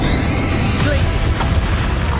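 Glacius spell cast in Hogwarts Legacy, a loud icy burst and crash from a combat encounter, dense game effects running continuously throughout.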